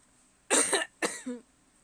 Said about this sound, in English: I'm sorry for any coughing I do